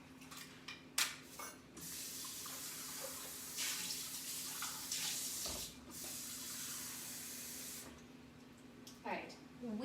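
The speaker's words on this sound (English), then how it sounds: "I'm just gonna get a bowl of water" Tap water runs into a bowl in a kitchen with a steady hiss and splash that shifts in strength, stopping and restarting a few times, fairly close and without talk.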